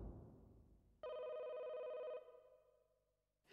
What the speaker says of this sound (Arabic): تليفون بيت عمي هو يرن